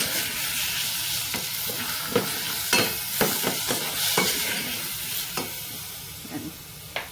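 Tomatoes sizzle in a hot pan of mung bean dish being sautéed, giving a steady close crackle and hiss broken by scraping taps of stirring.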